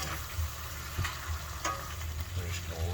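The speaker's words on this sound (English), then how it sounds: "We're just going to let that simmer a bit." Thickening Mongolian beef sauce bubbles and sizzles in a pan on a gas stove, a steady, fairly close crackle with small pops and faint clicks, no talking.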